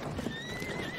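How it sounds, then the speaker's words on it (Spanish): Horse in the Battlefield 1 video game giving a brief, loud whinny with a rising and falling tone over thick game noise, lasting about a second. "Caballo."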